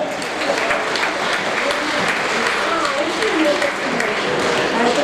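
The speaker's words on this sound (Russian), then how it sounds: "Ваши аплодисменты, встречаем!" A concert audience applauds steadily from start to finish, a dense and loud wash of clapping, with voices mixed in beneath it.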